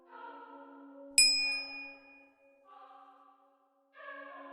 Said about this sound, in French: activer la cloche de notification pour ne pas manquer nos prochaines parutions